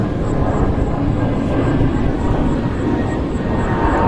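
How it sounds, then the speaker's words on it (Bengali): An airplane passes overhead near an airport, heard from a rooftop in the morning as a steady, loud broadband engine roar that fills the whole clip without clear change. "প্লেন যাচ্ছে"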